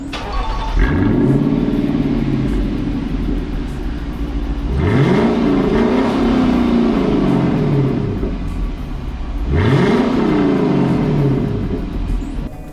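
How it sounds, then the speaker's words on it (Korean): A Lexus LC500 sports coupe with a naturally aspirated 5.0-litre V8 starts and then revs hard three times, each loud blip rising and falling while the exhaust idles between them, with no talking. "배기 소리 한번 들려드려 볼게요 시동을 뿅"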